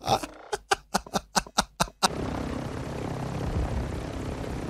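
Airplane engine drone in Modern Warfare 2, a continuous broadband roar taking over after a series of about eight sharp rhythmic thumps.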